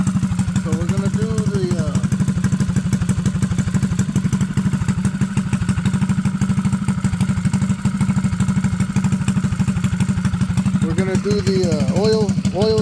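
A Predator 212cc small engine on its stock carburetor idles with a steady, rapid thumping pulse. The sound is close and constant throughout, with brief voice-like sounds near the start and end.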